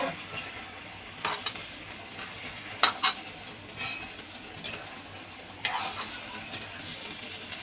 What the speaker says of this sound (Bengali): মাশরুমগুলো দিয়ে আলুর সাথে ভালোভাবে মিশিয়ে দিচ্ছি।